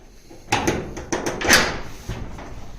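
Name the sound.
door being opened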